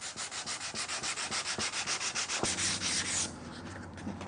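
Wood being hand sanded with 150-grit sandpaper for a knife block, a steady rhythmic back-and-forth rasp of close, regular strokes that carries on alone with no talk.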